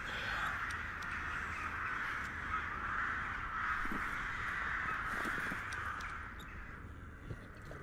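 Crows caw continuously in a morning outdoor game environment, a steady distant chorus of harsh calls with no other sounds standing out.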